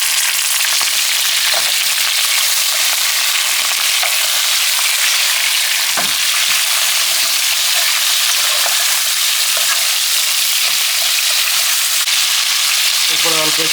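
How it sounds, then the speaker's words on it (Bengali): Chicken frying in hot oil with onion, bay leaf, cloves, cardamom and cinnamon, a loud continuous hissing sizzle with faint stirring clatter, steady for the whole stretch. "প্রথমে আমরা পেঁয়াজ, তেজপাতা, লং, এলাচ, দারচিনি তেলে ভেজে নিলাম। এরপরে চিকেন দিয়ে দিলাম।"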